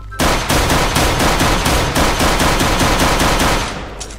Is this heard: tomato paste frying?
no